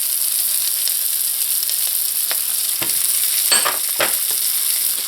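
Chopped celery, scallions and peppers sauté in a pan for a provision and saltfish dish, giving a steady loud sizzle broken by a few scraping stirs near the middle and end.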